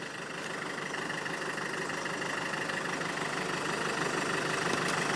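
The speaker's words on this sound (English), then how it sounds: "There's a slight bit of vibration there, which is what you'd expect from a diesel." A Land Rover Freelander diesel engine idles with a steady, close, even rumble that builds slightly in loudness over a few seconds, with no voices.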